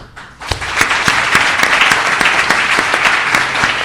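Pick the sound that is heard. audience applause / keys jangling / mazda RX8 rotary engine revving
audience applause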